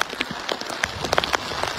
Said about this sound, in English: Just getting some rains and high winds.